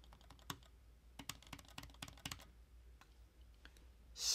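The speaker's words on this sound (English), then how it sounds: "So much quieter. It's like a soft click." Soft, muted clicks from a Logitech MX mouse with its new quiet switch mechanism, a quick irregular run of faint taps up close against a quiet room.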